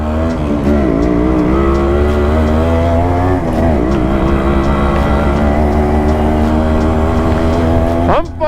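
A Yamaha RX 100 motorcycle engine revs hard and continuously, loud and close, with a rough, buzzing two-stroke tone whose pitch rises and falls between throttle blips before a sharp final rise.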